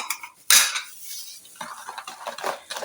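Spoon stirring half a cup of milk with one and a half tablespoons of sugar in a bowl for a no-bake dessert, a sharp clink followed by quieter, irregular scraping and clinking, close and alone.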